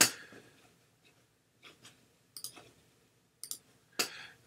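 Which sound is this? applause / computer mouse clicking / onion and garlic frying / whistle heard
computer mouse clicking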